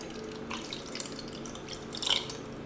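Developer liquid is poured into a film developing tank for home black-and-white processing, making a continuous soft liquid splashing and trickling with a few brighter drips near the end.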